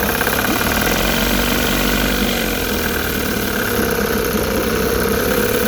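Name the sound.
outboard motor running in test tank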